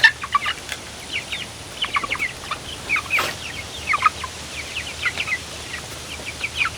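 Chickens cluck in soft, scattered, close calls, a few birds chattering at once over quiet background noise.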